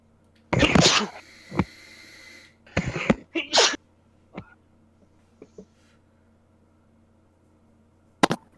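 A person sneezes several times in quick succession, sharp explosive bursts close to the microphone, followed by a few quieter breathy sounds and small noises in an otherwise quiet room.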